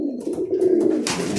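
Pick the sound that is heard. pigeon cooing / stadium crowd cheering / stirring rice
pigeon cooing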